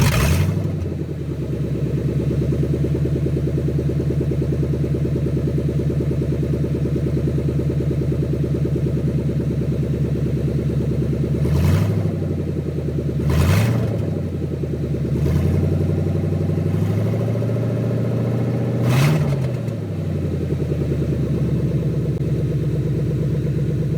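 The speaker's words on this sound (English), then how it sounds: "as soon as I got the fuel pump replaced, the car fired right up. This is open manifolds." A 2003 Ford Mustang GT 2V V8 with open exhaust manifolds idles steadily and loudly after a fuel pump replacement, with a few sharp throttle blips cutting through the rough, close-up rumble.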